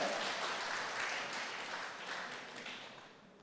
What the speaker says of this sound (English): Let's give your country manager a hand of applause